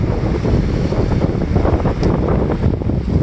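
Strong wind buffets the microphone in a continuous low rumble at Sunset Bay on a cool day around 60 degrees, with a steady roar and no voices.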